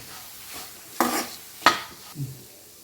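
Chilli and turmeric powder are stirred in a pan while making beef pickle, a few sharp spoon scrapes against the metal pan with a faint sizzle underneath, close and distinct with short pauses between strokes.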